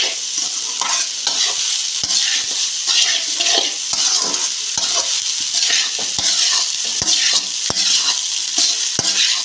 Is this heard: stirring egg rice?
yes